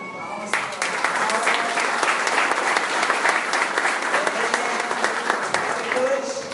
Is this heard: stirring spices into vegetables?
no